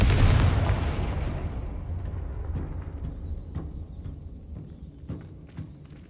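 Confringo fire curse in Hogwarts Legacy: a loud, deep explosive blast opens, then a rumbling decay fades over several seconds with faint scattered crackles and footsteps-like taps trailing off.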